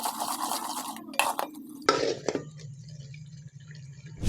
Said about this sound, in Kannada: ತೆಂಗಿನ ತುರಿ ಹಾಕ್ಬಿಟ್ಟು ಒಂದು 5 ನಿಮಿಷ ಚೆನ್ನಾಗಿ ಮಿಕ್ಸ್ ಮಾಡಬೇಕು.